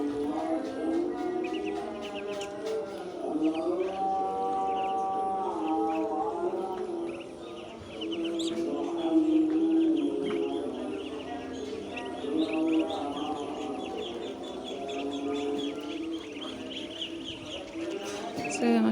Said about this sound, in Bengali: কত সুন্দরভাবে হাঁসগুলো খাচ্ছে